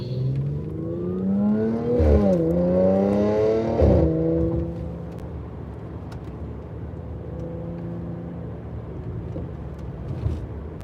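A loud car accelerates along a beach-town road, its engine note climbing through rising revs and gear changes before fading away, followed by quieter passing traffic.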